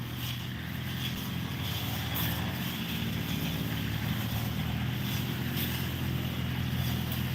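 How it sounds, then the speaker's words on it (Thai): Tractor plowing a path through freshly cut grass during a community cleanup, its engine giving a steady, continuous low rumble and drone throughout, fairly near with no talk over it. "พอตัดหญ้าพอเห็นทางแล้วนะเขาก็จะเอารถไถไถเลยครับ"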